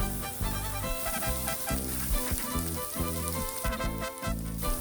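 Ground beef and onion cook in a pan with a steady sizzle, heard over background music.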